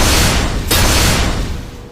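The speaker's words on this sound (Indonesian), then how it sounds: "menciptakan ledakan yang besar." A large explosion in a fantasy audio drama, a loud close boom with a sharp burst of rumbling blast noise that surges again briefly and then decays away.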